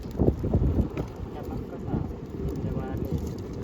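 Wind and waves on the Konkan coast in Maharashtra, a steady broadband roar with surging low rumbles from breaking water and gusts buffeting the microphone, loud and continuous throughout.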